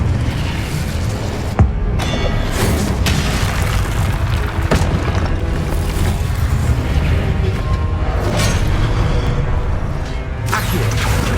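Confringo and Incendio spell blasts in the video game Hogwarts Legacy: loud, deep booms and bursts that follow one another with no gaps, forming a dense, heavy wall of explosions for the whole stretch.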